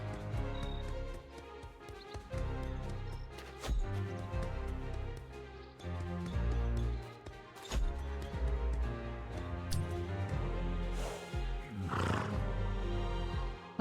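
A horse in the video game The Mageseeker gives repeated snorts and whinnies over a continuous layer of game music and ambience, with no talking.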